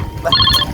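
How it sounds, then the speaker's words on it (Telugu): Phone ringing in a quiet room, a single short electronic ring burst that stands alone against faint background noise. "ఫోన్ రింగ్ అవుతుంది మచ్చా"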